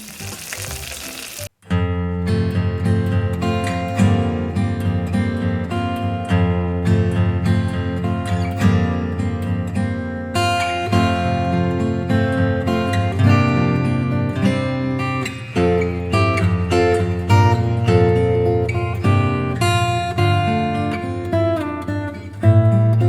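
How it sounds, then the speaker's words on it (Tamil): Chopped mixed vegetables sautéing in a pan for a rice side dish, a continuous close sizzle and crackle of frying that starts after a brief burst and keeps going at a steady level. "அதெல்லாம் வதக்க ஆரம்பிக்கலாம்."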